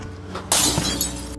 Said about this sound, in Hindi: इस ईंट से इसका शीशा तोड़कर इसे आगे कर देता हूँ